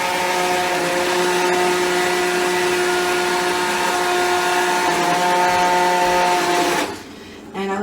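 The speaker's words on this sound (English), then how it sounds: "Okay, so I'm just gonna keep on blending." A blender purees potato leek soup right in the pot with a loud, steady motor whine that holds for several seconds before abruptly cutting off.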